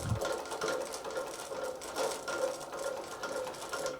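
An industrial cylinder arm walking foot sewing machine stitching through twelve layers of denim, its needle running in a fast, even mechanical chatter at close range, steady for a few seconds with no talk.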